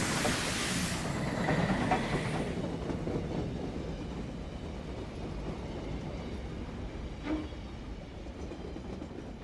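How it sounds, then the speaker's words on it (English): GMAM 4070 steam locomotive scurries past between Opat and Comfer hauling a train of box vans, a loud rushing rumble up close that eases into a steady rolling clatter of wagons. "GMAM 4070 scurries along between Opat and Comfer with a train of box vans"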